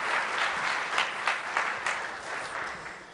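Audience clapping at a student technology competition finalist presentation, a steady wash of many hands with a few louder bursts, fairly close and continuous for a few seconds with no talk over it.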